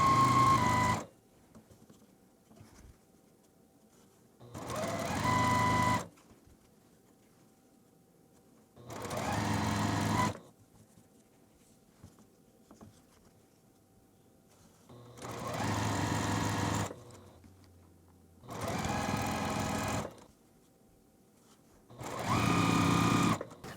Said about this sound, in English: I'm just going to sew these together and just chain piece